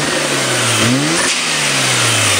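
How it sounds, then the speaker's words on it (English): A rotary engine with a trailing ignition coil fault revs loudly and close by, its pitch climbing then dropping in one sustained blip, with rough popping texture and no speech. "Rev's good, but something with the trailing coil, I don't know why it's popping."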